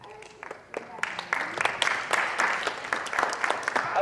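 An audience at a school committee meeting breaks into applause, scattered claps at first that build into steady clapping from a room of people. Voices are mixed in under it.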